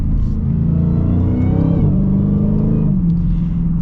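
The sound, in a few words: Dodge Challenger Hellcat supercharged V8 engine accelerating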